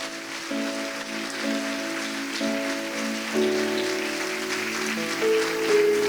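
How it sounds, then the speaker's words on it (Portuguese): A church congregation applauds during a sermon, a dense, even patter of clapping that runs for about six seconds while sustained organ or keyboard chords play underneath. "dê um aplauso a Jesus"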